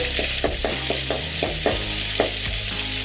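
Onions frying in hot oil with curry leaves in a pan for chickpea masala sundal, a steady loud sizzle broken by repeated scraping strokes of a stirring spoon.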